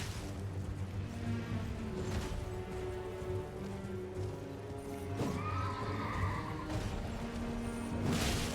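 A Knight's Cavalry horse in Elden Ring neighs loudly in a rising, wavering whinny, with steady hoof clip-clop and game ambience underneath, plus a clashing impact near the end; no speech.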